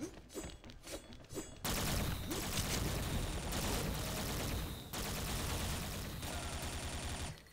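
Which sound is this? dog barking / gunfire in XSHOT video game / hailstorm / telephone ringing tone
gunfire in XSHOT video game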